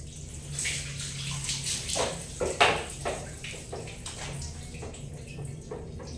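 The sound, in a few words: water poured over hair while bathing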